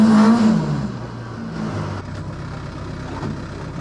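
A Ford Escort idling rough on a cold start, a low uneven engine rumble with a short louder rev at the start that settles into a lumpy, unsteady idle, close by.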